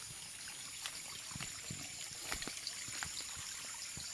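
A natural water source trickles on in a soft, steady flow, with small dribbles and splashes close by and no voices.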